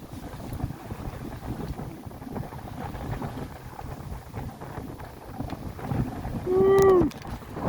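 A sailboat races through cold water toward a lighthouse, with steady rushing water and wind noise buffeting the microphone, and a short whooping voice near the end.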